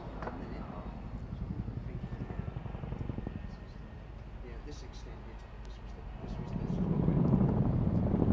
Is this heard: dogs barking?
no